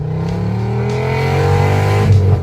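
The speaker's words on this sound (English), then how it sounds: "The 1977 Audi 100 was the first production 5-cylinder petrol engine in the world" 1977 Audi 100 with a five-cylinder petrol engine revving, a loud, close, smooth drone rising steadily in pitch and dipping briefly near the end.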